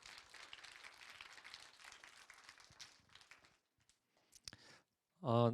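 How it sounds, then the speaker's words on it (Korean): Congregation at a church youth summer retreat evening service applauding the shepherd group leaders, a broad wash of clapping that gradually thins out, followed by a brief loud burst at the end. "이분들에게도 박수로 격려해 주시기 바랍니다."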